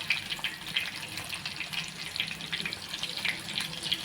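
Bombay duck (bombil) fritters deep-fry in hot oil with a continuous bubbling, crackling sizzle, steady and close, fairly quiet with small popping spikes throughout.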